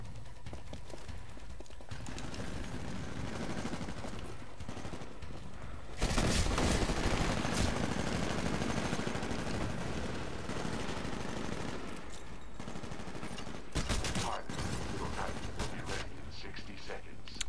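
Rapid automatic pistol sidearm fire in Titanfall, dense rattling bursts of shots, with a long, loud volley in the middle and shorter bursts later, over continuous game background noise.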